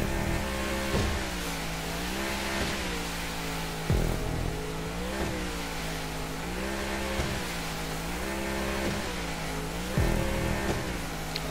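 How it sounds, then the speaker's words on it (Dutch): A large speedboat's engine drones in a racing video game, a sustained mid-pitched roar that rises and falls in repeated revving swells, steady and loud with no voices. "En dan krijg ik een grote speedboot."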